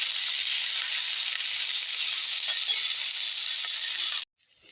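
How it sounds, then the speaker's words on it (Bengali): Yardlong beans frying in a little oil in a wok make a loud, continuous close hiss that stops abruptly near the end, leaving only a faint clatter. "কড়াইতে আমি হালকা তেল দিয়ে বরবটাকে ভেজে তুলছি"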